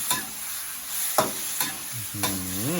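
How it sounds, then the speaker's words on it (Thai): Chinese kale stir-fried over high heat in a hot pan gives a steady close sizzle broken by several sharp clanks and scrapes of a spatula, and near the end a voice rises and falls in an excited exclamation. "ผัดคะน้าไฟแรง"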